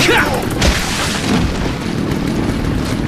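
A grenade explodes in Resident Evil 4 with a loud, close boom and a sustained rumbling blast that stays dense and heavy for several seconds.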